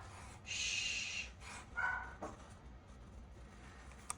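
Dog barking indoors downstairs, a couple of muffled barks and yips at moderate distance in a quiet room.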